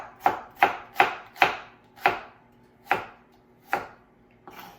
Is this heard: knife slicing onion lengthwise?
yes